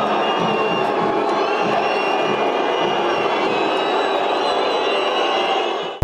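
A stadium crowd after São Paulo's 1-0 home defeat to Ceará, a dense, steady roar of many voices filling the whole stretch without a break, broad and sustained like mass booing.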